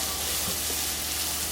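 Onions frying in a little bacon fat, a soft, steady sizzle with faint crackle, heard briefly and close.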